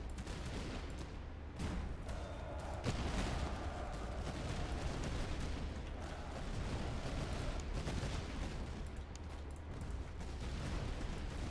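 Musket volleys fired by rank in a video game battle, a dense, continuous roar of overlapping gunfire and rumbling, with sharper cracks breaking through the steady din.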